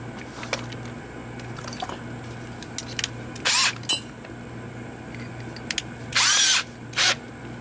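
Two short bursts of a power drill with a self-centering bit whirring, each about half a second, separated by quiet background hum and small clicks.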